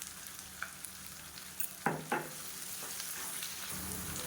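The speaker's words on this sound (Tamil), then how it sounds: "வெங்காயம் நல்லா வதங்கிடுச்சு" Onions and garlic sizzling quietly in a pan for a spicy okra kulambu, a steady low frying hiss with a couple of sharp stirring scrapes in the middle.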